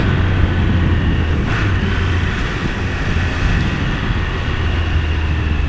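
A Triumph Speed Triple RS or RR three-cylinder motorcycle engine drones steadily and loudly at a constant pace, with wind rush over it and no talk throughout.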